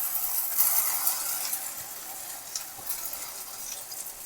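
Minapa rotti batter, a thick black gram flatbread batter, frying in hot oil in a pan on a medium stove: a steady, bright, hissing sizzle held at an even level the whole time, close and alone.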